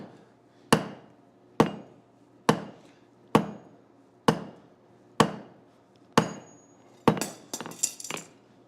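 A hand hammer forges hot metal on an unheated, cold anvil. About seven evenly spaced, ringing blows land up close, followed by a quicker flurry of lighter strikes, with no talking.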